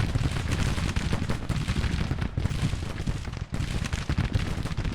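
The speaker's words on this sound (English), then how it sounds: "these guys are getting shot to bits by Heckman" Dense, continuous gunfire and artillery booms rumble through a Civil War battle in a strategy video game, with volleys and cannon blasts overlapping into a heavy, unbroken roar for several seconds without speech.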